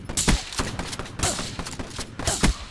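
Repeated shotgun blasts in Black Ops 3 Gun Game multiplayer, several booming shots spaced roughly a second apart, loud and close, with gunfire clatter between them.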